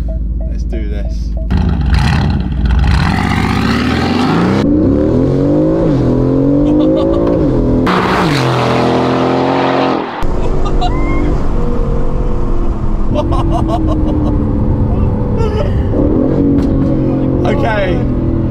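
A wrecked and rebuilt 2019 Aston Martin Vantage, straight-piped and tuned, accelerates hard in track mode with manual shifting. Its loud engine note rises and drops through repeated gear changes, with people talking over it.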